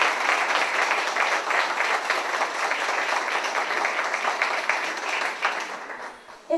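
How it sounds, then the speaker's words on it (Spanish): Concert audience applauding a guitarist of the Duo Guitarina, a dense, steady wash of clapping that holds for several seconds before tapering off near the end, with no voices over it. "Fuertes aplausos y cariñosos, por favor, para él"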